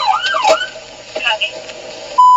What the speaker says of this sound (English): Officer Valentino activated her lights and siren to get the drivers to move.